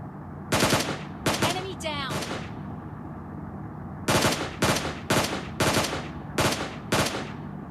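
Gunfire from the mobile shooter game PUBG Mobile Lite, with a few rapid shots, a short pause, then a steady series of loud, evenly spaced single shots.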